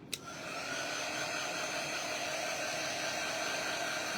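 A hair dryer blows on a chalk paste craft project: after a short click it starts up and holds a steady, loud, even whooshing hiss from start to finish, with no talk.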